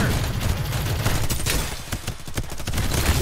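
Gunfire in the Farlight 84 video game, continuous dense bursts of automatic shots, loud and close, running unbroken through a short stretch with no talking.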